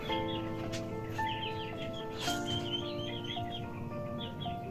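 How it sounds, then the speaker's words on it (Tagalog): Chickens cluck and chirp softly amid a busy outdoor background with steady tonal hum and faint bird calls. "mayroon po siyang mga alagang manok dito"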